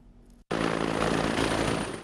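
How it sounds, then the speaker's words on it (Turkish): T129 ATAK attack helicopter, loud and close, with a steady broadband engine and rotor roar that cuts in abruptly after a brief quieter moment and holds constant to the end. "4 adet taarruz helikopteri silahlı kuvvetlere teslim edildi."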